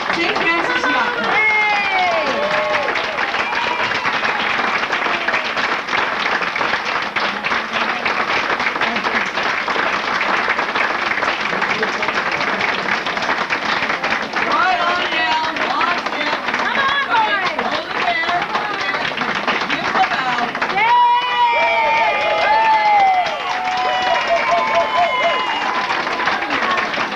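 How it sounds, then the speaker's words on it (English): A cabaret show audience applauds for a visiting group from a yacht club, sustained dense clapping with cheers and crowd chatter, loud and continuous throughout, with a brief lull near the end. "Let us clap for them, show our appreciation"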